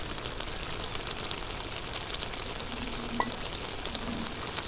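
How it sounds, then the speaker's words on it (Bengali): Oil sizzles and crackles steadily in a pan as fried shrimp go in with taro leaves, a close, even frying hiss throughout with no voices. "ভাজা চিংড়ি মাছগুলো দিয়ে দেবো।"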